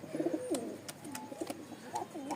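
Soft, throaty coos from a pet pigeon, a few short rolling calls close by with brief pauses between them and no talking.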